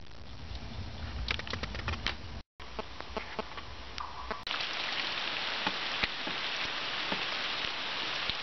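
Rain falls in the countryside as a soft, even patter that grows denser and louder partway through, with a few sharp taps and clicks scattered over the steady wash.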